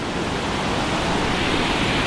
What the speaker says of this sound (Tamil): தண்ணி கொஞ்சம் ஃபோர்ஸாக தான் போயிட்டுருக்கு